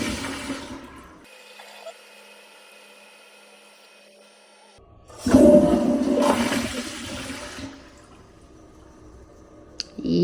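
A FlushMate 504 pressure-assisted toilet, just repaired after failing to flush, fires off a loud, forceful whooshing flush in the middle, rising abruptly and trailing into a rushing refill, with quieter plumbing noise before and after.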